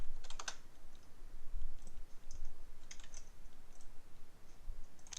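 Keystrokes on a computer keyboard, with short bursts of light clicking separated by pauses, close and fairly quiet against a low background hum.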